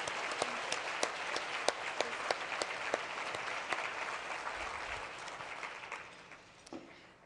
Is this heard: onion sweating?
no